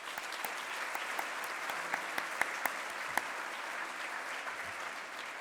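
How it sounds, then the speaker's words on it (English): Dense, even applause from a breakfast audience honoring club staff rolls on steadily, with a few louder individual claps popping out of the wash. "so a round of applause for them"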